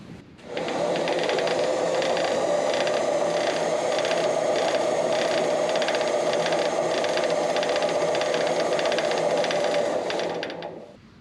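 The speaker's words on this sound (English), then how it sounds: "if our pump's working, we should have an oil flow running down here." The oil pump on a JFMT 530 x 2000 lathe runs continuously, a close, steady mechanical whir with rapid rhythmic ticking and rattling that starts abruptly and cuts off near the end, with no talk.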